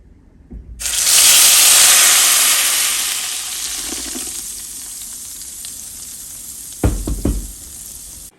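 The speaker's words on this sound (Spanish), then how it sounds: "Aquí ya tenemos una cazuela con aceite, con la flama bajita y le vamos a agregar lo que licuamos" Blended sauce hits a pot of hot oil over a low flame and bursts into a loud, steady sizzle that slowly settles into a quieter fry, with a couple of spoon knocks against the pot near the end.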